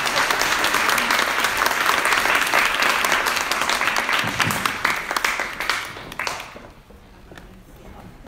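An audience breaks into loud, sustained applause to welcome a speaker, the clapping holding steady before fading out over the last couple of seconds.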